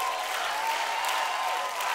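Sustained, dense applause from a television talent show audience for a pianist after a semifinal performance of Debussy's Clair de Lune, steady and loud throughout with crowd noise.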